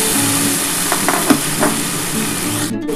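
Green peas fry in a pan with half-cooked onion and tomato for ghugni, a loud, close, continuous sizzle broken by a few scraping stirs of the spoon, with no talking.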